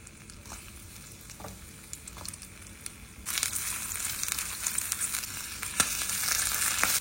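Spices and chillies roast in a little ghee, a soft crackle that swells into a louder, denser frying sizzle partway through, close by and without speech.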